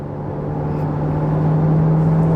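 A Honda ZR-V Grade Z turbo engine pulls steadily under acceleration, a sustained droning whir with a rising tone and road rumble heard from inside the cabin, growing slightly louder with no voices over it.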